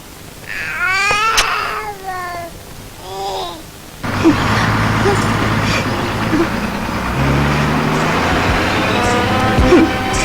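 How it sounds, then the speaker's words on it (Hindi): A bus starts to drive off: after some brief vocal sounds, a broad engine rumble comes in abruptly and keeps going steadily, close and fairly loud. "बस अभी चलेगी। चलो भाई, बस चलाओ।"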